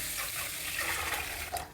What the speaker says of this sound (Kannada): ಈಗ ಫ್ರೆಶ್ ನೀರು ಹಾಕ್ತಾಯಿದ್ದೀನಿ